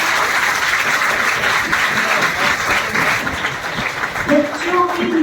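An audience at a school youth parliament bursts into sustained, even clapping that fills the room, with a voice talking over the end.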